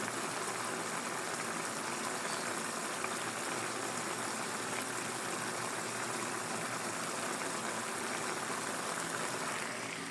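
Chop suey vegetables sautéed with onion and garlic sizzle in a pan, a steady, even crackle and hiss of frying that runs unbroken and fairly close throughout.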